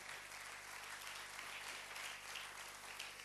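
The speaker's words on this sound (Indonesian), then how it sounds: "Berikan tepuk tangan buat dia" A church congregation applauds its preacher, and the clapping arrives as a faint, even wash heard from a distance. A low steady electrical hum sits beneath it throughout.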